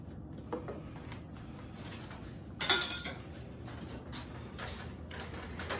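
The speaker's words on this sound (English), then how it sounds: "And give it another stir." A spoon stirs a warm Rice Krispies mixture with vanilla in a pot, giving faint scraping and a brief cluster of metallic clinks against the pot, close and without talk.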